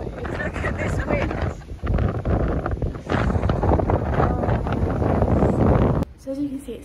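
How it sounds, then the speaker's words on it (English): Strong wind at a Red Sea coastal resort in Egypt on a dark morning roars in loud gusts over the microphone, ending in a sudden drop near the end. "Look at this wind."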